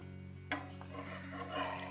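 Semolina uttapam cooks in a pan over medium gas, a soft sizzle under a low hum, with a sharp clatter of a lid or utensil partway through; quiet and close.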